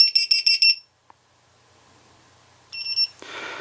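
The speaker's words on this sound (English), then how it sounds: "now it's beeping continuously." ViFly Beacon drone finder sounding a rapid series of loud, high electronic beeps, then a quiet gap, then another burst of beeps followed by handling noise.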